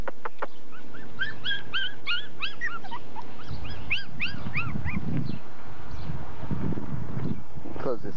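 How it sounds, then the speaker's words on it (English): A litter of seven puppies whimpers in a rapid series of high, rising cries close by, with rustling and low handling noise beneath in a worn home recording. "Yep, there's seven puppies here."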